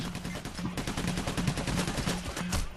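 Rapid automatic gunfire in a PayDay heist shootout sounds as a steady rattling run of shots. It stays fairly quiet and continuous throughout.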